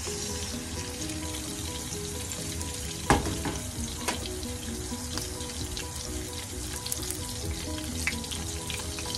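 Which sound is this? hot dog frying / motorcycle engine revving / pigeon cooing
hot dog frying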